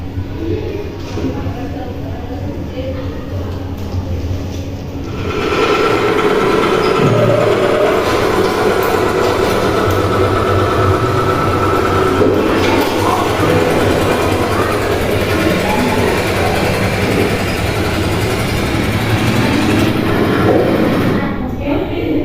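A farm tractor engine runs with a man operating it: a steady, loud mechanical drone that starts quieter, then swells and holds strong and even for the rest of the stretch.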